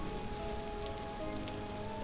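Steady rain pours down in the Vintage Story survival game, a dense continuous patter of drops on surfaces at even loudness throughout, with no talking.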